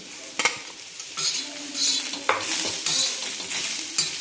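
Onion fries in a pan over a full gas flame while a spatula stirs and scrapes in uneven strokes over a loud, continuous sizzle.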